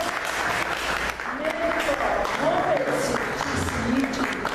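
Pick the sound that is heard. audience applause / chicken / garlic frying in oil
audience applause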